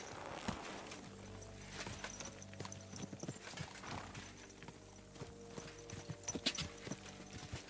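A horse's hooves clip-clop steadily along in the video game Kingdom Come: Deliverance II as it approaches, with a low ambient hum and faint background tones underneath.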